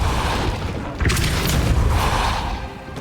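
A Depulso spell cast in the Hogwarts Legacy video game lands as a loud, boomy impact about a second in, over a dense, rumbling game soundscape that keeps going throughout.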